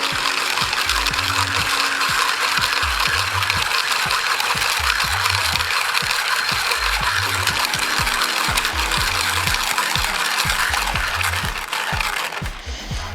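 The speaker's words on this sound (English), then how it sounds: "We put the coffee on top and we start grinding." An ARCO 2-in-1 coffee grinder crunches through 10 grams of coffee beans with a steady rattling grind and a regular rhythmic thump, loud and close, easing off near the end.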